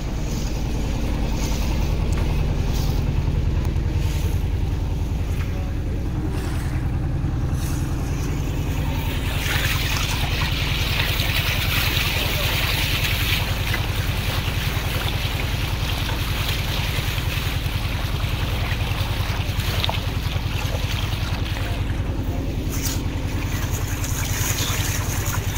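A trawler's engine drones loudly and continuously as the boat heads out across the haor toward Mithamoin, with water rushing and wind buffeting throughout.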